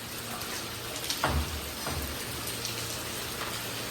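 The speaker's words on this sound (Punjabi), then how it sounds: "ਕਿੰਨਾ ਜ਼ਿਆਦਾ ਮੀਂਹ ਆ ਗਿਆ ਅੱਜ" Heavy rain falling steadily outdoors as a dense, even hiss of drops on surfaces, moderately loud and alone, with a faint brief knock partway through.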